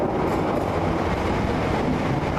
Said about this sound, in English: Here comes the Springburn train